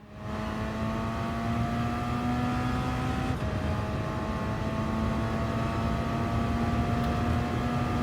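A race car in the GT Sport video game laps Fuji Speedway during qualifying, its engine a loud, steady, close-up drone. The pitch shifts once partway through, as at a gear change, and no one speaks.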